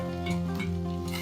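Onion with ginger-garlic paste, cloves, cinnamon, bay leaf and green chilli sautéing in oil, a steady soft sizzle and hiss under sustained tonal background music, with no pauses.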